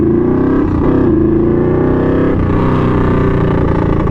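A Yamaha V-Max motorcycle engine revs loudly and steadily, its deep harmonic growl rising and falling slightly with throttle, close up with no talking.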